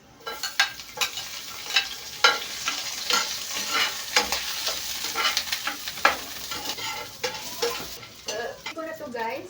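Garlic and onion frying in a small amount of oil, bright sizzling with frequent spatula scrapes and stirring knocks against the pan.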